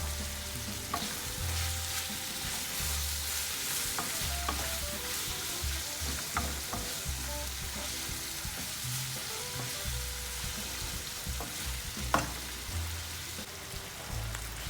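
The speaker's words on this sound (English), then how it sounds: "As you can see, it's frying nicely" Saltfish fries in a pan with Maggi seasoning for Jamaican ackee and saltfish, a steady soft sizzle like light rain, broken by spoon scrapes, taps and stirring clatter against the pan, with no voices.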